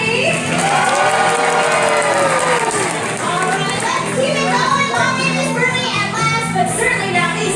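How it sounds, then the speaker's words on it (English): A crowd of children and families at a sea lion show in an aquarium arena cheers and claps, a loud sustained roar of shouts and applause with excited young voices throughout. "I'm going to hear a huge round of applause for Team Sappy"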